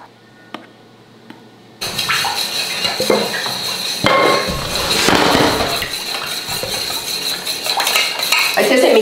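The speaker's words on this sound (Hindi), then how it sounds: "ये भाई साहब बना रहे मफिन्स, अच्छे से मिक्स करो ना," Eggless muffin batter is mixed in a bowl with a spoon, giving close, busy clinks and scrapes against the bowl that come in irregular bursts after a quiet start.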